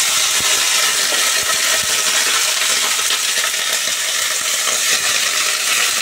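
Sliced potato and halved pointed gourd tipped into hot oil with panch phoron and green chillies, giving a loud, steady sizzle and crackle of frying, with faint stirring clinks and no talk.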